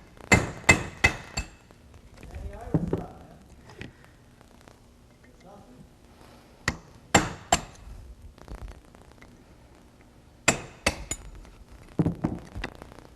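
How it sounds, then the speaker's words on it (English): A hammer taps a pin punch to drive rivets out of a Rolls-Royce Silver Cloud or Bentley S brake shoe held in a vise, giving sharp metallic strikes in quick clusters of two or three with pauses between. "Put a pin punch in the middle."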